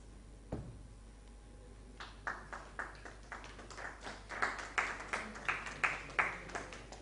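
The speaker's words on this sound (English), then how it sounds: "Big round of applause, please." A sparse round of applause at an education summit awards ceremony, scattered claps at a distance that start faint, then build into a steady, rhythmic patter, with one sharp knock near the start.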